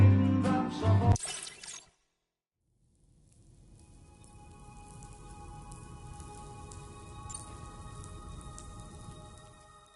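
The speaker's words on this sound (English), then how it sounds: "Those raindrops are falling." Rain in the video game Death Stranding 2 patters steadily on surfaces, fading in after a loud burst and a brief silence, then holding a constant soft hiss of drops with no one talking.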